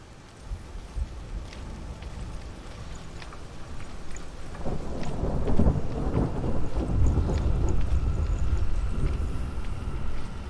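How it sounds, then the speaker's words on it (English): A thunderstorm in the video game Hellblade: Senua's Sacrifice builds from a low rumble into loud, heavy rolling thunder with rain-like noise across the clip. No one is talking. "I actually feel like there's a storm outside."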